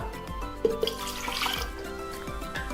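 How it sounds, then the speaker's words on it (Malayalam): A cup of water is poured into a mixer grinder jar for a batter, a short, close trickle and splash with a couple of light clinks against the jar. "ഞാൻ മിക്സിയുടെ ഒരു ജാർ എടുത്തിട്ടുണ്ട്. ഇതിലേക്ക് നമുക്ക് 1 കപ്പ് വെള്ളം ഒഴിച്ചു കൊടുക്കണം."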